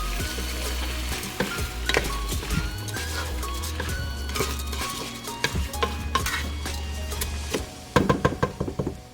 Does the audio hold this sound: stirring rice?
yes